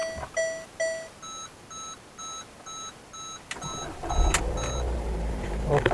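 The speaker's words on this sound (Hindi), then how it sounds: "गाड़ी मैंने स्टार्ट कर दी है" A car starts up after its battery has been reinstalled, opening with a run of dashboard warning beeps, then a short cranking burst and an engine catching into a steady idle close by.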